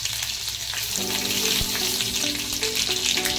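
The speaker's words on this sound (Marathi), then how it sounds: "आता हे चांगलं भाजलंय आपण त्यात आता ऍड करूया मिरची जी आपण बारीक कापून घेतली आहे ती" Chopped green chillies fry in hot oil with cumin and mustard seeds for besan pithla, a steady close sizzle with crackling pops and faint stirring, no voices.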